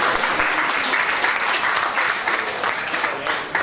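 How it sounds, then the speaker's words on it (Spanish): An audience at a book conversation event gives sustained applause: dense, even clapping fills the room with a slight swell and fade near the end and no voices. "Tengo varias amigas que no perdonarían estos aplausos"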